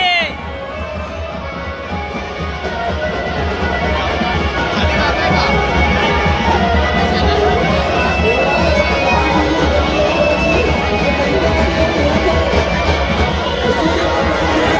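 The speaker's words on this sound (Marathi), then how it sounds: "गर्दी गर्दी गर्दी." A dense crowd of devotees at a temple palanquin festival for Aai Ratneshwari, a continuous loud babble of many voices and movement heard from above, steady throughout.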